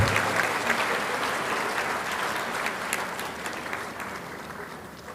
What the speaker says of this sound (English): A louder round of applause to